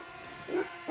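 A dog barks at people riding bicycles along a highway, two short distant yelps rising briefly over quiet outdoor background.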